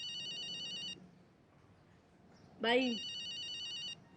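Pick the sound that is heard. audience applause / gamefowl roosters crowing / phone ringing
phone ringing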